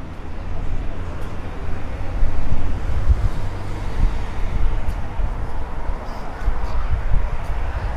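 Steady wind outdoors in Chernomorskoye, Crimea, a continuous low rumbling roar of gusts buffeting the microphone, with no clear voices over it.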